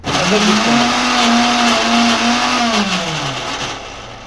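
A small mixer grinder strains loudly as it grinds thick Rayalaseema peanut chutney. Its motor hums steadily, then its pitch sags and drops near the end as it labours under the load.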